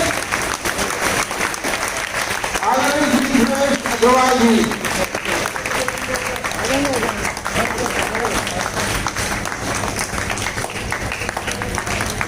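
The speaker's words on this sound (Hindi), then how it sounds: "सभी खिलाड़ियों से और ऑफिसर से निवेदन करूंगा कि इनका तालियों से जोरदार स्वागत करें।" A crowd of players and officials applauds guests at the opening ceremony of a karate championship, with continuous clapping throughout while someone speaks over it on a public address system.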